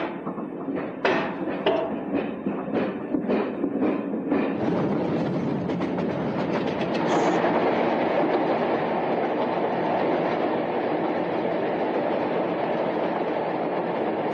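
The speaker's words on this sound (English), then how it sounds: "The driver has to push the crash train to exactly the right speed" A crash test train rolls along the track at Old Dalby with rhythmic clacking over rail joints, then settles into a steady loud rumbling roar.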